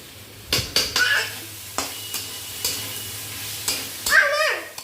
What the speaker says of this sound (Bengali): একটু জিরের গুঁড়ো দিয়ে এটাকে ভালো করে একটু কষিয়ে নিই